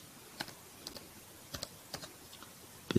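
Soft, close keystrokes on a PC keyboard as a name is typed, a handful of separate light clicks spread at an uneven pace and then a firmer final tap, with no one speaking.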